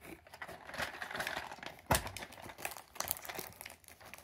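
Plastic and cardboard packaging of a Plarail Yakumo 273 series toy train crinkles and rustles in close, busy bursts as it is opened, with one sharper tearing snap midway.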